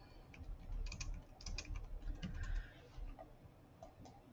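Keys tapped on a computer keyboard while a name is typed in, a quiet irregular patter of soft clicks in short bursts over a low room hum.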